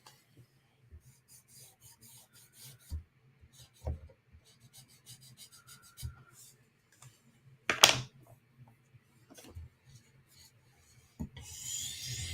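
Knife blade drawn across a sharpening stone or guided sharpener, a series of faint scraping strokes at a steady pace, close and quiet with occasional louder rasps.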